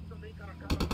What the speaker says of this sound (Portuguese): Os rebeldes do Santa Blanca estão trocando tiros.